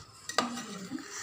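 Chicken stirred in a pan, a quick metallic scrape and clink of utensil against the pan over a faint background sizzle, brief and fairly close.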